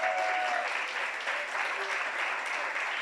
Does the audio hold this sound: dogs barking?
no